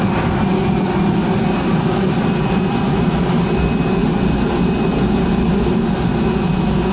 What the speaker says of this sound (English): The one making the noise is the auxiliary power unit